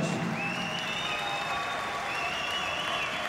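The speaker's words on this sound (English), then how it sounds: "The crowd applaud." A boxing arena crowd applauds after a tenth-round knockout, dense steady clapping with scattered whistles sustained throughout, fairly distant and even in level.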